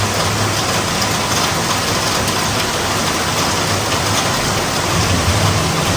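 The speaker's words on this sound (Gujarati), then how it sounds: "આજે કંઈ દેખાતું નથી કેમ કે વરસાદ છે ને થોડું" Steady rain pours continuously, a dense even hiss filling the whole stretch with no voices.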